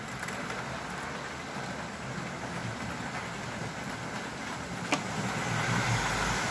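A model train locomotive with a DC motor, driven by its back wheels, runs on track with a continuous close whirring rumble that grows slightly louder toward the end, broken by a single click.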